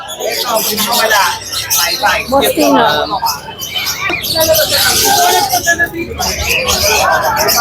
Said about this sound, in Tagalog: Marami rin po mga ibon dito.